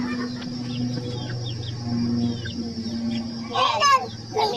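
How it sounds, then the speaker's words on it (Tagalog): Chickens cluck in a countryside yard, with a few short calls scattered over a steady background and a louder burst of squawking near the end, while children's voices chatter nearby. "Tapos proceed tayo dito sa mga manok. Yan. Mga manok, yes."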